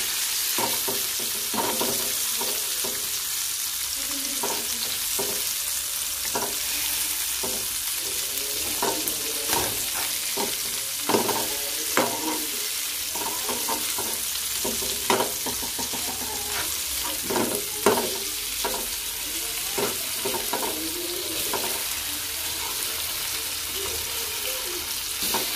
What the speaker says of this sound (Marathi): परतूया मासे काय भाजू जास्त वेळ नाही लागत